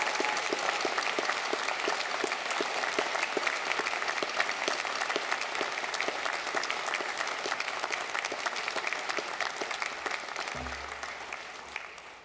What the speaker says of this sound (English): I invite you to share your appreciation for their achievement by applauding their